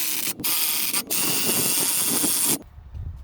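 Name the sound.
impact driver running in pulley bolts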